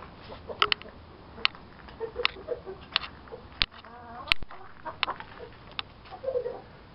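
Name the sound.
Madagascar rooster near hen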